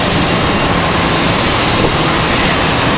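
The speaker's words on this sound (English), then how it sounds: "E175 coming across the taxiway now" An Embraer E175 regional jet taxiing at Charlotte Douglas airport on a gusty afternoon: a loud, continuous broadband engine roar mixed with wind buffeting, with no breaks and no speech.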